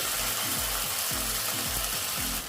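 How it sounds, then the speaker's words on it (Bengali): Spice paste frying with lightly fried onions in a pan, a loud continuous close sizzle with a steady hiss throughout, fading slightly at the end. "পেঁয়াজটা আমরা হালকা করে ভেজে নিয়েছি এরপর পেস্ট করে রাখা মশলাটা দিয়ে দিচ্ছি"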